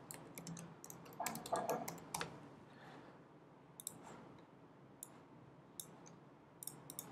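Light typing on a computer keyboard comes in quick irregular clusters of soft clicks, close by and quiet, with brief pauses between bursts.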